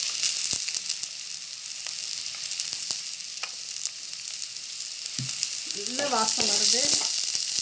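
Onions sauté in oil for a Tamil crab curry (nandu kulambu), giving a steady, close sizzle with light stirring. A voice speaks briefly near the end.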